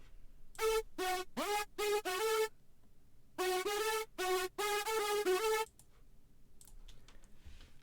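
A buzzing hardstyle synth lead layer with overdrive, chorus and gliding notes plays two short bursts of staccato, bright notes, some bending in pitch, separated by a brief gap and followed by faint leftover noise.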